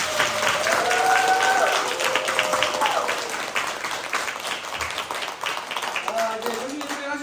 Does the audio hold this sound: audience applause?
yes